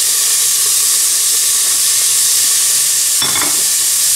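Onions sautéing in a little oil in a pan give a steady, close, loud hiss and sizzle, with a brief stir or scrape near the end and no talk.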